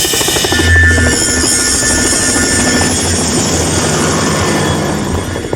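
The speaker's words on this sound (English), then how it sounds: "That's a helicopter." Helicopter approaching, a loud steady rotor thrum and engine whine filling the scene continuously, close and unbroken with no voices.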